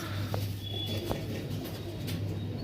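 Pigeons cooing at a pigeon farm in Nabadwip, soft low coos over a steady low hum, with a few faint chirps, close but quiet.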